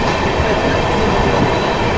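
A passenger train crossing Pamban Bridge on the Rameshwaram to Chennai route gives a steady, loud rumble of wheels and carriages with faint clickety-clack, continuous and close throughout.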